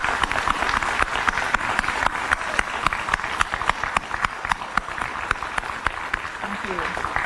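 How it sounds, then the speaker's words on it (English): Audience at a college commencement ceremony applauding, a sustained wash of clapping with sharp individual claps standing out, steady throughout and moderately loud. "And let's applaud these people."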